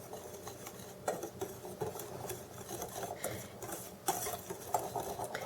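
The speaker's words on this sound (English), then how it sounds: "I will just whisk these together to make sure that they're fully mixed" A whisk scrapes and taps steadily against a bowl, mixing dry buttermilk pancake ingredients of flour and leavening, a soft continuous rasp with occasional clinks, close and fairly quiet with no talk.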